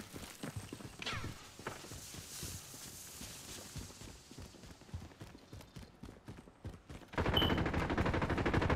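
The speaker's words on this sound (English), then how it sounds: "Got a submachine gun here." Submachine gun fire from Call of Duty: Modern Warfare, a fast string of sharp gunshots in the first half, then scattered clatter and a loud, dense stretch of noise near the end.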